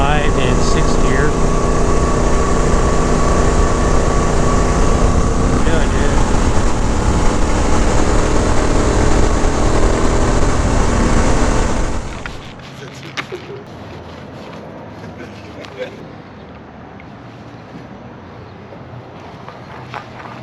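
A Honda Africa Twin fitted with a 44-tooth rear sprocket cruises at 65 in sixth gear, its engine and wind roar loud and steady for about twelve seconds before dropping abruptly to quieter scattered sounds.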